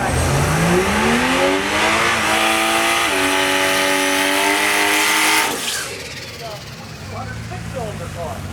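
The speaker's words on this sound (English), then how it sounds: "We got Calvin Nelson in the near lane in his Fairmont wagon." A six-cylinder Fairmont wagon street car with a straight-six Trailblazer engine launches down the drag strip in the near lane, engine roaring loud and climbing through several gear changes before easing off as it pulls away.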